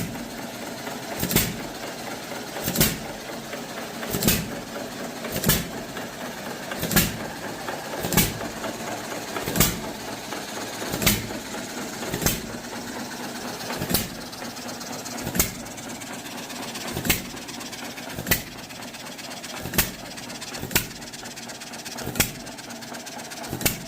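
An old John Deere Model E engine running steadily, giving evenly spaced loud firing beats about every second and a half over a low mechanical hum, close by and steady throughout.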